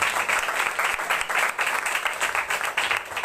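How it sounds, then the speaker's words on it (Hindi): A church congregation gives a loud round of applause during a sermon, with thick, continuous clapping that swells in rhythmic waves throughout. "जोरदार तालियां खुदा की खातिर के लिए।"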